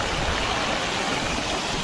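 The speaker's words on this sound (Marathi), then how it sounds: "कोडाक तर चाललाय पाणी जोरात जोरात" A steady, dense roar of floodwater rushing strongly after two days of heavy rain fills the whole clip, loud and constant with no voices.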